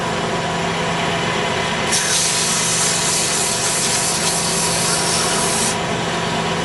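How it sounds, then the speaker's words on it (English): A wooden duck call is sanded at its end on a spinning lathe, a constant close motor hum with a rough rasping abrasion that grows brighter and harsher in the middle stretch before easing back. "Flip it back around so I can sand this end down here."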